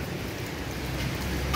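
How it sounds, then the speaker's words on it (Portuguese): Steady, dense rain falls on a city street in Rio de Janeiro, a continuous hiss with no voices heard. "tô aqui na Rua da Carioca, debaixo de chuva"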